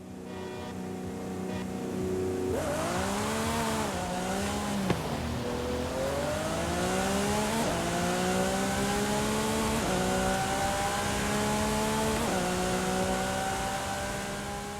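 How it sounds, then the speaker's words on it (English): Engines of a Lamborghini and a bus in a Forza Horizon 5 drag race at the Horizon Festival strip, loud and continuous, with repeated rising revs that climb, drop at each gear change and climb again, alone throughout. "he took on a bus in a Lamborghini at the Horizon Festival drag strip"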